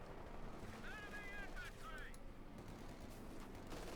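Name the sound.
machine gun fire in video game Company of Heroes 2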